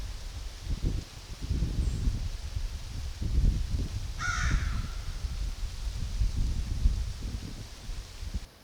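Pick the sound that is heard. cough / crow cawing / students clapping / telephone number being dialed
crow cawing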